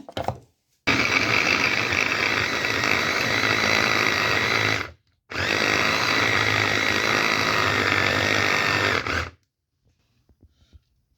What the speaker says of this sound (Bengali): ব্লেন্ডার দিয়ে এখন পেস্ট করবো।